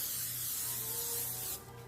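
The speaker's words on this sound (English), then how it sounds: "I'm gonna spray it with non-stick spray." Non-stick cooking spray hisses steadily from a can onto a sheet of parchment for about a second and a half, a close, even aerosol rush that cuts off abruptly into quieter room noise.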